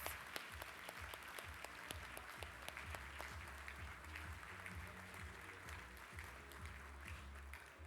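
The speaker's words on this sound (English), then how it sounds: "Please give him a very big round of applause." An audience at a conference event applauds the Chief Minister of Maharashtra, Devendra Fadnavis: sustained, dense clapping from a large crowd, steady and even across the whole stretch.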